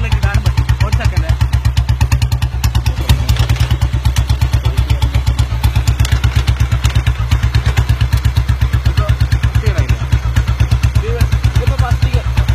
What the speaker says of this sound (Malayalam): ഇതാണ് യഥാർത്ഥ ബുള്ളറ്റിന്റെ സൗണ്ട്